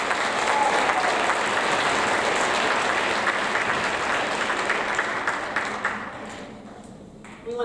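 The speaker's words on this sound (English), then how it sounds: "Let's give them a round of applause." An audience at a sixth-grade awards ceremony applauds the students, a dense, sustained round of clapping that thins and fades toward the end.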